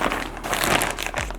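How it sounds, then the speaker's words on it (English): Crinkly plastic zip wrap rustles and crunches continuously as a camera bag is pulled out of its packaging, close and fairly loud with no talking. "Let's go ahead and take this out the zip wrap."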